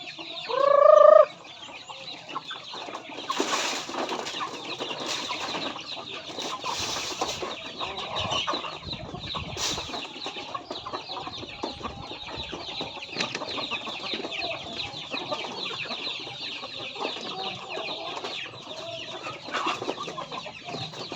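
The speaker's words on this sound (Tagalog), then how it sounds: "Nabigyan natin ng pagkain yung mga alaga natin na chicken." Native chickens being fed cluck continuously, a close, busy flock murmur, with one loud squawk at the start and scattered pecking and rustling throughout.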